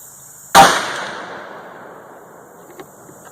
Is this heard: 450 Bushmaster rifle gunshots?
yes